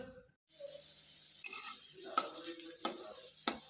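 Two chopped onions frying until reddish in a pan, stirred with a steady scraping sizzle after a short quiet start, with a few sharper clinks of the utensil against the pan.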